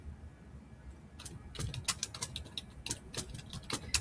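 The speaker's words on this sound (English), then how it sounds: "we're going to start typing the body" Typing on a computer keyboard while entering the body of a memo, a quiet start followed by a rapid, uneven run of close key clicks and taps with no voices.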